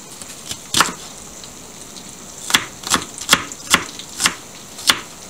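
A knife chops a small onion on a cutting board: sharp, distinct strikes, one isolated early and then a steady run of about six evenly spaced chops, close and clear with no talking.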